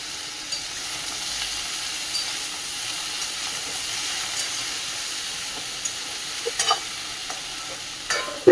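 Pumpkin stems, potato and eggplant frying in hot oil, giving a steady, close sizzle and hiss with a few sharper pops and stirring scrapes near the end.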